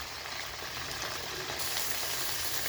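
Chopped tomato with ginger paste and onion sizzles in a pan, a steady close hiss of frying with no talk.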